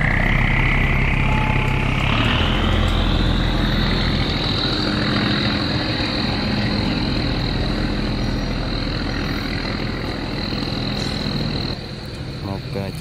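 A stone-laden barge passes on a narrow river, its engine a loud, steady drone with rushing water throughout, a high whine running on top and a slight drop in level near the end.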